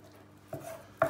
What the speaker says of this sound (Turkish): Tavuk filetoları çok ince doğrayacağız